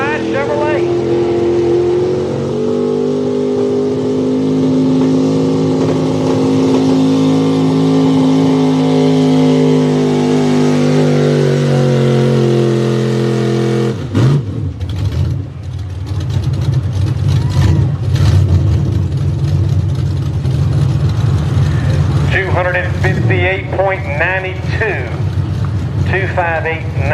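Chevrolet truck from a pulling contest, "Never Satisfied," with its engine screaming at high revs and rising in pitch as it drags the sled. It then drops into a rough, heavy roar, with an announcer talking over it and the crowd heard near the end.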